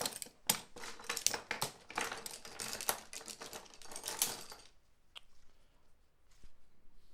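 Metallic clinking and rattling of a climbing quickdraw being handled, with dense jingling clicks of carabiners and gear close up for several seconds, then a few faint isolated clicks.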